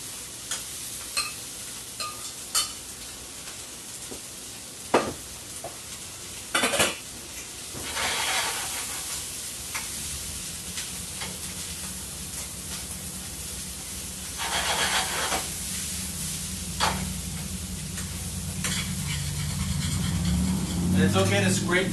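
Potatoes drop into a hot pan beside a bacon-wrapped pork tenderloin, with clattering pans and utensils, then a steady frying sizzle and repeated scraping of the pan bottom. A voice talks over the cooking.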